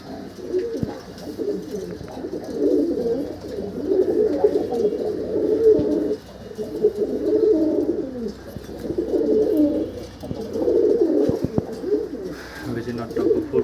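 Male pigeons coo repeatedly in a crowded breeding loft while trying to pair, a steady, low, rolling murmur that swells in long waves close by, with occasional wing flaps and clicks and no talking.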